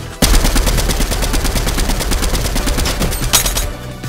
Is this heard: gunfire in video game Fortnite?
yes